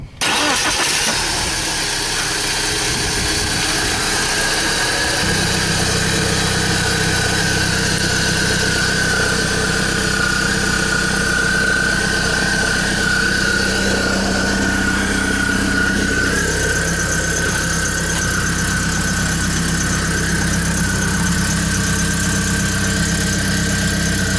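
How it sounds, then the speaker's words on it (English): After a brief starting crank, a BMW E46 318i engine settles into a steady idle with a low, even hum and a thin, constant whine above it, running alone with no talk. "now I'm just gonna run the engine"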